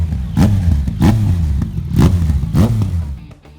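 A Yamaha XSR 900 motorcycle, a model sold from 2016 onward with a torquey triple engine, revs in four loud, evenly spaced bursts up close before the sound drops away.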